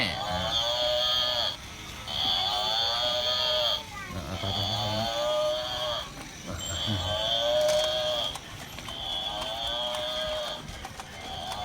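Startled water buffalo at a Thai temple moo repeatedly, about five loud, drawn-out bellows close by in steady succession, with low grunting noises mixed in between calls.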